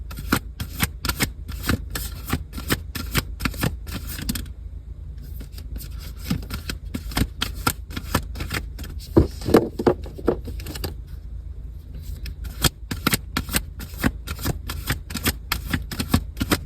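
Oracle cards are shuffled close by in a long run of rapid, rhythmic riffling flutters and slaps, broken by two brief pauses, with no talk.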